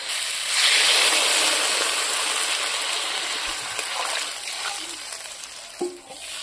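Water is poured into a pan of cauliflower and potato curry, making a close, hissing rush that swells early, then fades into a gentler trickle, with a few small clatters toward the end.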